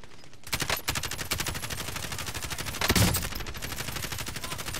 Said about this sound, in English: He's sniping at us.